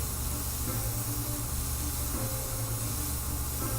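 Airbrush spraying Createx paint: a steady, close hiss of air and paint spray that runs continuously without pauses, fairly even in loudness.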